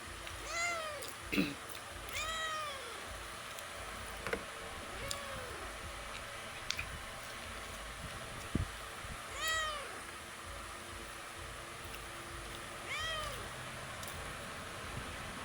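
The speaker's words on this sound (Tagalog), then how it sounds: "Ang ingay ng pusa." A cat meows repeatedly, several drawn-out calls spread over the stretch, close by, with a soft background hiss and a few clicks.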